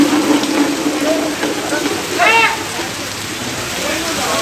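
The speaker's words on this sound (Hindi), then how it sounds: "शाम 5 बजे के बाद 10 मिनट तक बादल जमकर बरसे" Heavy evening rain shower pours down in a dense, continuous hiss of drops striking surfaces, steady and fairly loud throughout, with a brief swooping tone partway through.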